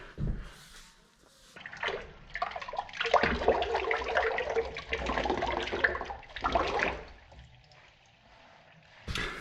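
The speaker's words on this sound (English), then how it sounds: "start cleaning up our grout lines in a circular motion here, making sure things are cleaned up" A wet sponge wipes grout lines on a tile backsplash in circular strokes, giving close, intermittent watery squishing and scrubbing with pauses between passes.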